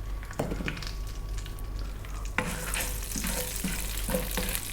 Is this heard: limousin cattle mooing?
no